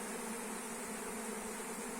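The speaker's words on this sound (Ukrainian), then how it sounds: "тут все обліплено бджолою" A swarm of honeybees buzzes continuously, a dense, even drone of many bees clustered close by on a hazel tree, steady and without pauses or talking.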